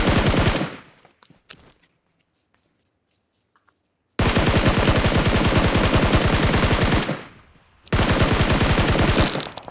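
Automatic weapon fire in the video game PUBG Mobile rattles out in long, loud, rapid bursts, with a brief lull of faint clicks between them.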